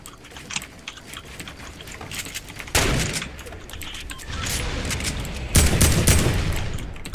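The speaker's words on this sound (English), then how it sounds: "I'm trying to snipe. Oh, heavy sniper, beautiful." Heavy sniper rifle fire in the Fortnite video game, with booming shots at about 2.8 and 5.5 seconds over a busy backdrop of rapid clicking and other game noise.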